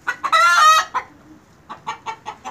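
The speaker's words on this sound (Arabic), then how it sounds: "شفتوا الفرخه بقى؟" A hen clucks up close, letting out a loud drawn-out squawk followed by a string of short, rhythmic clucks, with no talking over it.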